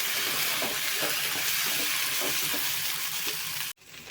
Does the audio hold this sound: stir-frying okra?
yes